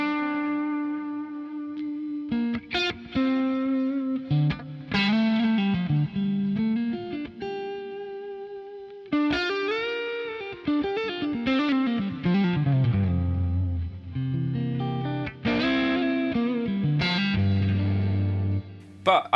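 Distorted electric guitar lead through a Mesa Boogie Lonestar amp model in Helix plays sustained bends and melodic runs, washed in a lush, blooming glitz reverb with shimmering tails, loud and up front.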